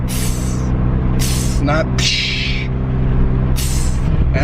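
A Turbosmart blow-off valve on a MK7 Golf R vents in several sharp hissing bursts over the steady drone of the idling engine, with someone talking through it.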